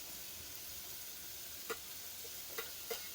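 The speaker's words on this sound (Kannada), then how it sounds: "ಹಾಗೆ ಕರಿಬೇವು, ಕೊತ್ತಂಬರಿ ಎಲ್ಲನೂ ಫ್ರೈಗೆ ಹಾಕೋತಾ ಇದ್ದೀನಿ." Curry leaves, coriander and chopped green chilli frying in a pan for paddu batter, a faint, steady background hiss with three soft scrapes or taps near the end, quiet and without voices.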